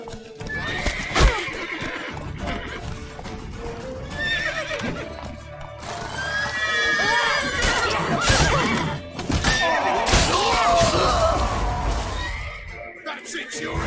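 Horses whinny and neigh repeatedly over hoofbeats and a busy, noisy background, with shouting voices in places, in The Witcher 3 video game.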